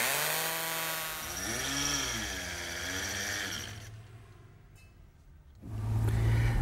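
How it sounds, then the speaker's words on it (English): A hammer drill fitted with a half-inch carbide-tipped bit drilling holes, a loud buzzing whine that rises and falls in pitch, easing off briefly before surging back at full power. "this is a hammer drill. It's actually, it looks like a drill, but it sort of hammers as it turns."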